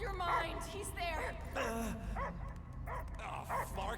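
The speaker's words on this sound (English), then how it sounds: "I hear only barking" In the Guardians of the Galaxy video game, a dog yips and barks in short, whimpering bursts, mixed in with voices talking.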